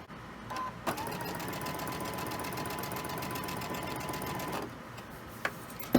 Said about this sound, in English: This is the last block on each row before I sew the rows together.